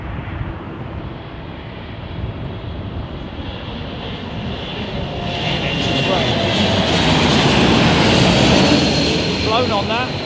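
Airbus A380 jet engines at London Heathrow Airport give a loud, continuous roar that swells in the second half, with voices talking over it.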